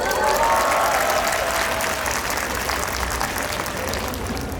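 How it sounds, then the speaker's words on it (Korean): Sustained, loud applause from an audience at a campus stage show, steady clapping with crowd noise that fades only slightly over a few seconds, cheering on female university students before a song. "여러분들 박수 한번 부탁드리겠습니다."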